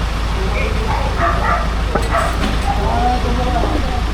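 A dog barks a few times amid people talking, over a constant background rumble.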